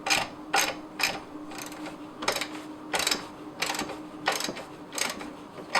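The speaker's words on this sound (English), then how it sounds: "I'm going to just unscrew this bolt here. Take out, loosen this one up." A ratchet wrench works bolts loose on a panel, giving short bursts of clicking that come in irregular spurts and pauses over a low steady hum, close by.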